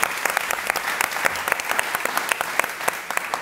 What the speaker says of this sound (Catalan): Donem per tancada la taula amb un fort aplaudiment per la Laura, Mercedes